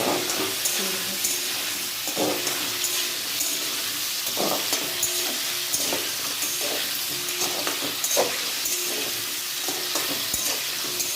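Mixed vegetables fry lightly in a pan, giving a steady sizzle broken up by repeated scraping knocks from stirring throughout.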